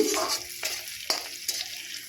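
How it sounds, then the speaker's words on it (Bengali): Onions and green chillies sizzle and crackle steadily in a hot wok, with sharp spatula scrapes and stirring clatters punctuating the frying, close and fairly loud. "লঙ্কা পেঁয়াজগুলো খুব সুন্দর করে ভেজে নিয়েছি"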